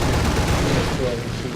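Aircraft machine guns fire in a dense, continuous burst during a simulator dogfight in War Thunder. The rattle is loud and close, with a low rumble underneath.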